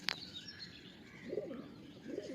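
Tournament racing pigeons kept in a loft coo softly in two short low bursts, with a sharp click at the start and faint chirps in the background.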